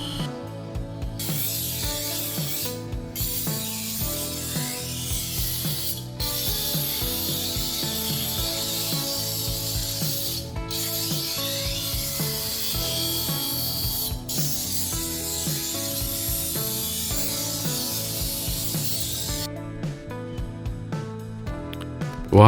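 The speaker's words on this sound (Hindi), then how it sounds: "आपको जब ये आवाज़ आए दैट मीन्स कोई वर्कशॉप यहाँ पे है।" Continuous mechanical clatter and rhythmic metallic ratcheting from a village iron tool workshop, steady and moderately loud throughout with a few brief dropouts, no voices.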